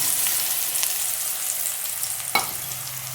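Spice paste poured into hot oil for a green banana kofta curry sizzles in a loud, dense, continuous hiss, with one sharp clatter partway through and no voices.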